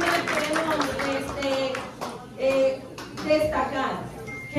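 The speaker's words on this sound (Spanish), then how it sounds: "Para fuerte el aplauso para nuestro." An audience applauds at a magazine launch event for the Dominican Days food festival, with scattered clapping bursts mixed with nearby talking voices.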